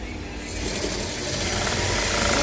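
A sewing machine stitches clothes with a fast, steady mechanical whir that builds and runs continuously for a couple of seconds, close by and without speech.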